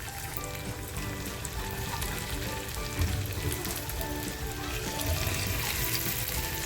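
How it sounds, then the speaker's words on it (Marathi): Squid rings frying in hot oil, a dense, steady sizzle and crackle with small popping bursts throughout, close and fairly loud, no voices. "तेल बघा तापत ठेवलं होतं आता ह्या ज्या रिंग्स आहेत ना त्या मी तळून घेते आहे"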